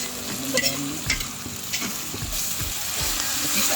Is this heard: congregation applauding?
no